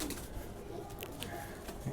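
Low throaty cooing of a Shahjahanpuri pigeon, an Indian breed, repeated softly over a steady background hum, nearby.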